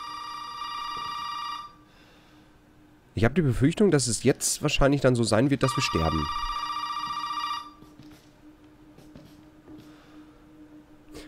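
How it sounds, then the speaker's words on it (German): Telephone ringing in the horror video game Resident Evil 7, a loud repeating electronic ring in two bursts, separated by someone speaking, with a quieter hum beneath. "Ach, jetzt weiß ich auch, was das bedeutet mit dem Telefon klingeln."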